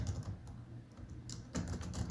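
Keystrokes on a computer keyboard clatter in quick irregular bursts, moderately close, pausing briefly before a denser flurry of taps resumes; no voices.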